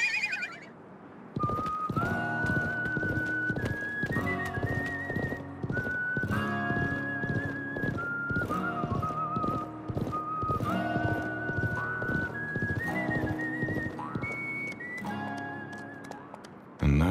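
Horse hooves clip-clop in a steady rhythm with neighing in the Wild West chapter of the video game Live A Live, set over a whistled western melody with percussive accents throughout.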